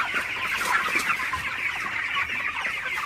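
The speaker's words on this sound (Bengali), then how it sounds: "তো মামার ব্রয়লার মুরগিগুলা কিন্তু আসলে ভালোই আছে" Broiler chickens cluck and chatter continuously in a poultry shed at night, many birds overlapping in a busy, close murmur with no talking.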